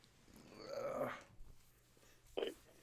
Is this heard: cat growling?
yes